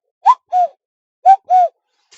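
A human voice imitates the jeopdong-sae cuckoo with two paired hooting coos, each a short note followed by a longer one, clear and close with silence between.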